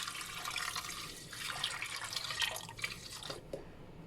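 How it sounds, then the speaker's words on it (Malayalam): Water is poured into a pot of simple North Indian-style dal with chopped garlic during cooking, a soft, steady splashing pour lasting a few seconds before trailing off, quiet and without speech. "ഇനി ഇതിലേക്ക് കുറച്ച് വെള്ളം ഒഴിച്ചു കൊടുക്കുക."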